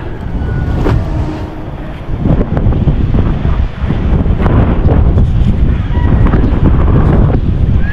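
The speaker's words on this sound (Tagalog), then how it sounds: "Ang hangin ah." Loud, steady wind buffets the microphone throughout, a continuous low roar with gusty swells and a few faint background sounds.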